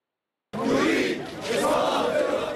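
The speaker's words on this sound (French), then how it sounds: "Le slogan est scandé en boucle par ces manifestants" Thousands of protesters in Cairo chant a slogan in unison calling for the president's fall, a dense, roaring crowd voice that swells and holds steady after a sudden start, with no other sound above it.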